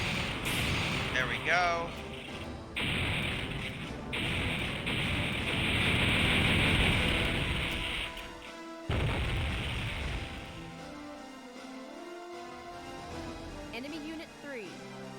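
Space combat game barrage: a dense, sustained roar of fire and booming explosions with crackling bursts, continuous for several seconds before cutting off, then lighter rumbling resumes, with a voice talking over it.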